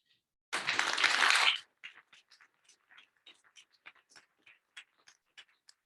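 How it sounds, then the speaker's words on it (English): A one-second burst of clapping rises from a small campus audience after a speaker finishes, then breaks into scattered, sparse individual claps and taps that fade out quietly. "Let's get one more round of applause"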